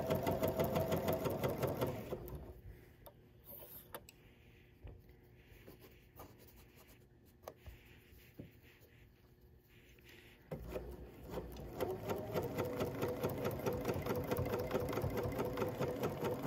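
A sewing machine stitches quilt block pieces along a quarter-inch foot, a fast, steady mechanical whirr that pauses for several seconds and then starts up again, close and clear.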